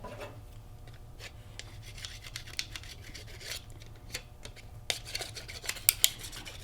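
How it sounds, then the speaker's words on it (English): Burnishing a cut aluminum leaf-shaped bookmark, faint close-up rubbing and scraping strokes with occasional sharper metallic ticks, quiet and irregular. "I'm going to burnish this first."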